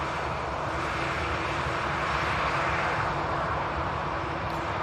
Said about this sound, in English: Another Dreamliner just touching down as well on the main runway, arriving in from Belfast.